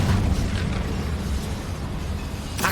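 A cast Incendio fire spell from Hogwarts Legacy, a dense, roaring fiery burst that fills the whole moment at steady loudness, with a sharp crackle near the end and no voices.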